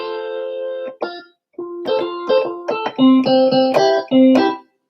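A keyboard plays a rock guitar-style patch, a series of sustained, slightly distorted notes and chords with short gaps between phrases, close and fairly loud.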